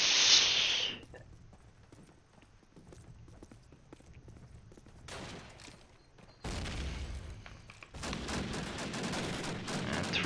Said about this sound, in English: 3 guys already shooting the guy in MG, don't manage to kill him though